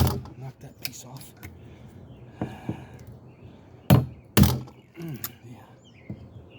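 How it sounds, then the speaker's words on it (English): A piece is knocked off a slabwood table being prepped for epoxy: a series of sharp wooden knocks and thunks, the loudest two close together near the middle, with quieter taps around them. "Knock that piece off."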